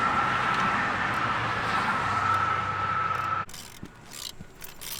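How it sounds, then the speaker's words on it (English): Threads being recut in an aluminum wheel give off a steady grinding, whirring mechanical drone that cuts off abruptly after a few seconds, leaving faint scattered clicks and rattles. "we're recutting threads for the aluminum"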